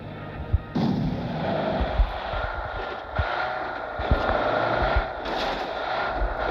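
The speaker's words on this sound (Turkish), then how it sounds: "bir yerden sıra sesi geldi." Heavy video game gunfire and booming blasts echo repeatedly over a constant rumbling background, automatic bursts recurring every second or so.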